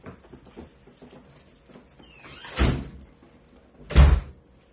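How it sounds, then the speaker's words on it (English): An indoor door creaks open with a rising squeak, then lands two heavy thuds about a second and a half apart, on a rainy day with faint background shuffling. "the door is going to creak"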